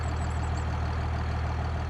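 A tractor engine idles steadily in Farming Simulator 25, a constant low mechanical rumble with an even drone and no change in pitch.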